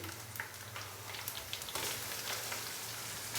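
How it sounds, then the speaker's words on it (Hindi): Ginger garlic paste frying with onions in a pan, a steady soft sizzle and crackle throughout with no talking. "और अदरक और लहसुन के पेस्ट को हल्का सा भून लेंगे ताकि इसका कच्चापन ख़त्म हो जाए"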